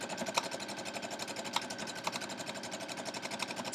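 A sewing machine stitches a seam on an eight-point star quilt block, its needle pulsing in a fast, even rhythm at close range with a few sharper clicks.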